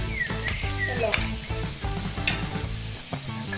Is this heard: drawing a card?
no